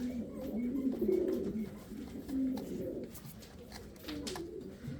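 Pigeons kept on a terrace coo in low, rolling phrases, several soft calls rising and fading over a quiet background.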